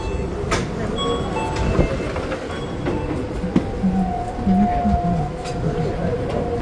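Palm Jumeirah monorail in Dubai running along its track, a steady rumbling ride with faint rail clatter and a high whining tone, with people talking nearby.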